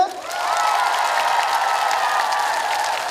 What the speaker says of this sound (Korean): 자, 다시 박수 한번 쳐볼게요.